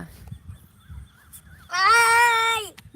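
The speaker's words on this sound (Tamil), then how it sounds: "மயில் இங்க பாரு மூணாவது மரம் ரெண்டாவது மரம் மூணாவது மரத்துல ஒண்ணு நிக்குது பாரு கத்துது பாருங்க சவுண்ட் கேக்குதா" After a quiet moment of faint background noise, a peacock perched in a tree lets out a single loud, wailing call from a short distance away.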